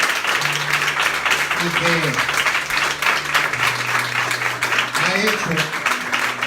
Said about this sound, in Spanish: Tenemos un fuerte aplauso